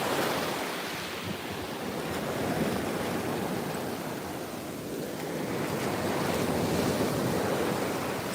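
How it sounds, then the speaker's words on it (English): Ocean waves wash onto a Florida beach in a steady, close roar with slow swells, and wind buffets the microphone. "Let's check out the waves."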